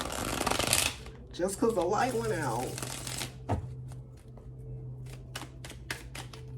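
Tarot cards shuffled by hand at close range: a riffling burst, then a series of crisp taps and flicks, with a short spoken phrase partway through.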